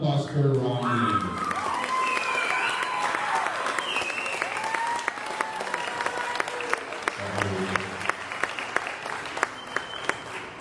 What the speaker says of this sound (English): So how about another round of applause for Ronnie?